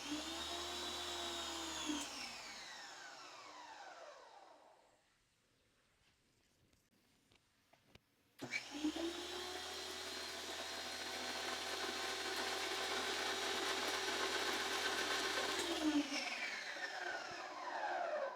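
An Active 2.0 starter kit machine runs with a loud, steady mechanical whine and hum, spins down to near silence midway, then starts up again and runs steadily at full volume before fading.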